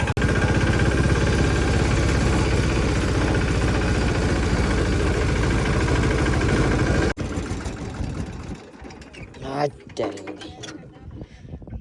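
A mini tractor engine runs with a steady mechanical clatter, loud and close, then cuts off abruptly; afterwards quieter rustling and a few bursts of voices follow.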